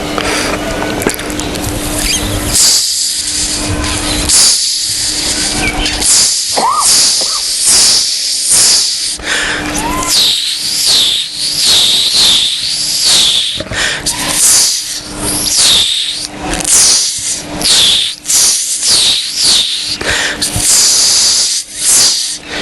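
A voice mimics jingling ankle bells with rapid hissing, shimmering chh-chh sounds and rhythmic bursts, loud and close, repeating steadily throughout.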